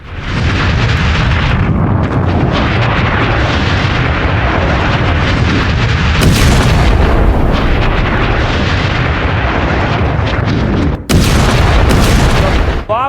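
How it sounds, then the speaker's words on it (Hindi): Hezbollah double rocket launcher firing toward Israel, a loud continuous roaring blast with heavy low rumble and sharp bursts breaking through, sustained and close throughout. "ये डबल लॉन्चर है हिजबुल्लाह के, डबल लॉन्चर से इजराइल पर दाग दिया है।"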